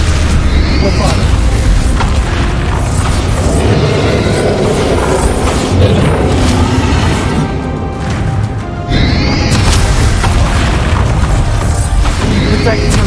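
Repeated Bombarda explosion spells in Hogwarts Legacy combat, a continuous heavy booming roar with several crashing bursts, a brief dip near eight seconds, then another loud blast, all near and loud.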